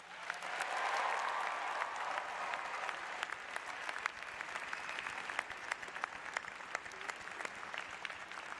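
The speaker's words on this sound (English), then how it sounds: "Please join me in a round of applause for our faculty." An audience at the Emerson College 2023 commencement claps for the faculty, a broad sustained round of applause heard from a distance, fairly quiet and even throughout with scattered sharper claps.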